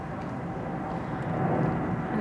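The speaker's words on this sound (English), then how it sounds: "you'll see the castle and the planes that come up straight above it." Aircraft climbing overhead near Windsor Castle, heard from a widebeam canal boat moored on the river: a steady broad roar of jet engines, moderately distant, slowly swelling over the clip.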